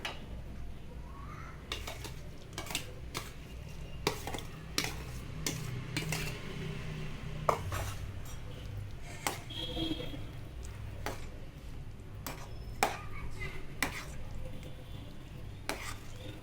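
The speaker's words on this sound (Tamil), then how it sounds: "அரைச்சி வச்ச கடலைப்பருப்பை சேர்த்து நல்லா கிண்டி விட்டுக்கிடுவோம்" Ground chana dal paste being stirred in a pan for susiyam, with repeated spoon scrapes and clinks against the pan over a faint sizzle, close and busy throughout.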